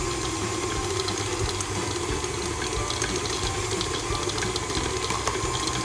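An electric mixer creams butter for oatmeal cookies with a steady, close mechanical whir and a slight rattle that runs unbroken throughout, with no speech.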